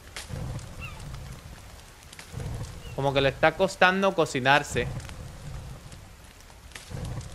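Steady rain falls through a survival game set in The Forest, a broad hissing wash that runs under the whole stretch while someone talks over it in the middle.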